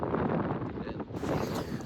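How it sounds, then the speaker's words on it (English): Strong wind at a lake beach along Lake Erie at Headlands Beach State Park, buffeting the microphone as a loud, continuous roar and rumble with gusty swells and no clear voice. "The wind was too strong."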